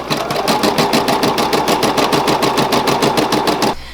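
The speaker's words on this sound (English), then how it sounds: "it started actually stitching" Embroidery sewing machine stitching a monogram, a loud, fast, steady needle rhythm that runs for several seconds before stopping abruptly.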